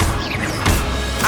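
Expelliarmus spell cast in the Hogwarts Legacy video game: a loud whooshing magical burst with a sharp crack partway through, then a second swelling burst at the end, no voice heard.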